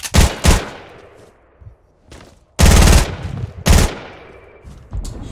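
Gunfire in the Fortnite Battle Royale video game: loud, sharp shots come in bursts, a rapid pair at the start, then two heavy sustained volleys with quieter single shots in between.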